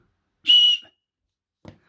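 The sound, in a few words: whistle from emergency survival kit being blown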